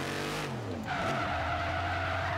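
Tires of a Dodge Charger R/T squeal in a sustained skid as the car spins in circles in Forza Horizon 3, with a falling engine note giving way to a steady high screech over a low engine rumble.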